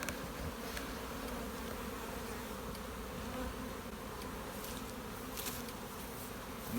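Honey bees in a hive box being built up for nucs give off a faint, continuous low drone of buzzing, steady throughout with no voices.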